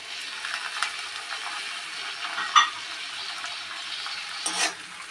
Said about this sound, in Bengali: দিয়ে আমি এটা কিছুক্ষণ কষাতে থাকবো, যতক্ষণ না টমেটোটা গলে যাচ্ছে ততক্ষণ এইভাবে আমি ফ্রাই করতে থাকবো